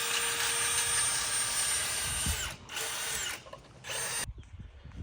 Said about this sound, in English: we gotta Dremel all this right here out